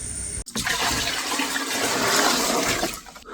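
Pond pump pushing water through an 8-foot, 2-inch-diameter hose, a sudden onset of steady rushing, splashing flow that holds for a few seconds before easing off.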